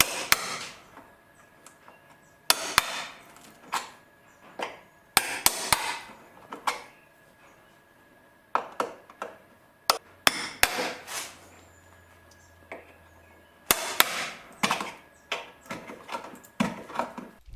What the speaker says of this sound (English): We're going to take a chisel and hammer here